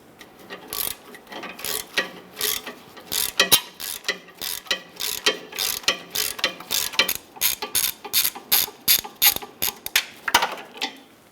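A hand ratchet clicks in rapid, uneven bursts while 10mm nuts are loosened from the exhaust manifold heat shield studs of a 2005-2010 Chrysler 300, close and clear with short pauses between strokes.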